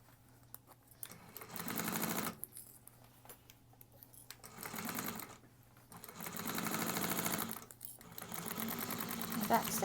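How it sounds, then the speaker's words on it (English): A sewing machine back stitches across the bottom of a bag lining in several loud whirring bursts separated by short pauses, with a faint voice in between. "Do a back stitch all the way across."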